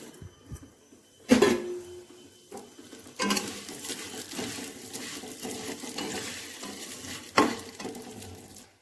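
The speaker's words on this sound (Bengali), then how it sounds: "ঘিটা গলে গেছে, এবার সিমুইটা ভেজে নেব।" Vermicelli fries in melted ghee in a pan, with a crackling sizzle broken by a few loud clattering stirs and scrapes of the spoon, close by. No voices are heard.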